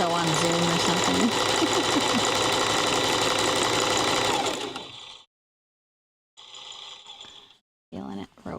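A sewing machine stitches rope, a loud continuous mechanical whir that runs steadily for several seconds, then stops and restarts in shorter bursts with brief silences between.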